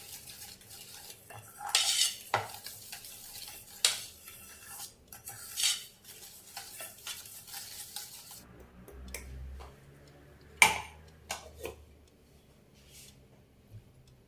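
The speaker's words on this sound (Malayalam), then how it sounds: "മുട്ടയുടെ മഞ്ഞ മിക്സ് ചെയ്തതിലേക്ക് നമുക്ക് പഞ്ചസാര ചേർത്ത് നന്നായിട്ടൊന്ന് ബീറ്റ് ചെയ്തെടുക്കാം" Egg yolks and sugar are beaten by hand in a bowl. The utensil clinks and scrapes unevenly in quiet, close-up bursts with scattered louder taps and no speech.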